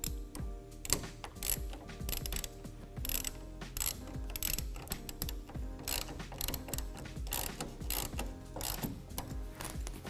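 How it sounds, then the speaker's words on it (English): A 1/2 inch ratchet tightens a clamp on a TruXedo TruXport tonneau cover on a 2020 Ram 2500. Its rapid pawl clicking runs close and steady for about ten seconds, with short pauses between strokes. "hold it in position, and roll it forward, and lock down this first clamp using a 1/2 inch"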